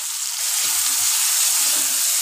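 Cumin seeds frying in hot oil in a pan, a bright, steady sizzle and crackle heard up close for a couple of seconds with no talk.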